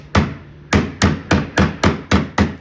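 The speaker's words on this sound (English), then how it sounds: "When they have metal ends on it, you can hit it with a hammer." A hammer strikes the metal end of a wood chisel eight times in a steady rhythm, each blow a sharp, close knock while trimming water-damaged wood at the bottom of an arcade cabinet.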